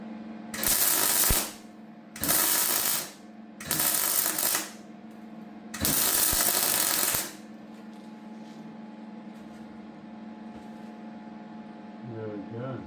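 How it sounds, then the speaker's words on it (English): A cleco hole on an HQ Coupe sill is welded in four bursts of harsh, crackling hiss, each lasting about one to one and a half seconds with short gaps between, over a steady electrical hum that continues afterward. "let's get that cleco out of there. Weld that one up too."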